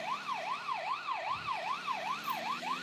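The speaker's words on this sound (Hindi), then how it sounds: "मैं सायरन बजा दे रहा हूँ," A video game ambulance siren wailing up and down in quick, regular sweeps, steady and moderately loud, with a faint low rumble underneath.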